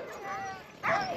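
Sled dogs on Svalbard yipping and whimpering excitedly before a run, with a sharper bark burst near the end, mixed under ongoing talk.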